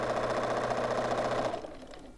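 A sewing machine stitches across a quilt block, a steady close mechanical whir with a rapid even rhythm that runs for about a second and a half, then stops and leaves a faint quieter tail.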